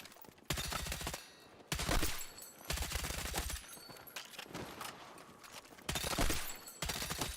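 Loud bursts of automatic hipfire in Battlefield 6, about five rapid sustained volleys separated by short pauses, close and punchy with echoing tails between bursts.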